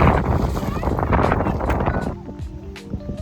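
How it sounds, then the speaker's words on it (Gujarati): Cool wind gusts at a lakeside near green hills in Sanosara, Bhavnagar, Gujarat, roaring hard against the microphone for about two seconds before easing off as voices come through. "પવન બહુ સરસ ઠંડુ ઠંડુ"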